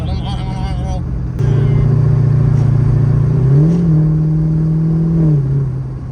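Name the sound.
rebuilt Corvette engine revving while driving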